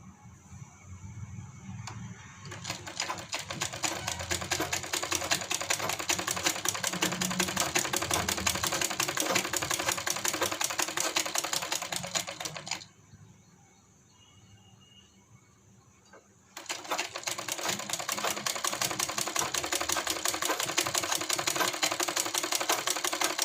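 Sewing machine stitching angrakha fabric, a fast rapid mechanical clatter running in long bursts with a brief pause midway before resuming, close and loud, no talking.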